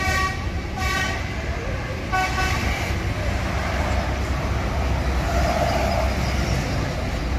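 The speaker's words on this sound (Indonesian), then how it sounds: "Bus pariwisata berdatangan masih mengangkut penumpang arus balik" Tour buses pull in with steady engine rumble and several short horn toots near the start, as people chat nearby.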